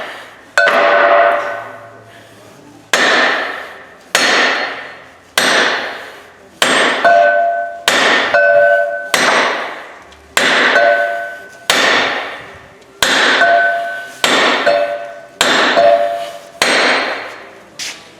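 A hammer drives a bushing into a line-bored part with a steady series of about fifteen sharp metallic strikes, each one ringing briefly before the next, loud and close.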